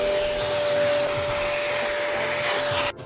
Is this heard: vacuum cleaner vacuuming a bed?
yes